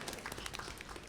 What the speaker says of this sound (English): everybody give a round of applause for Dave Wieczorek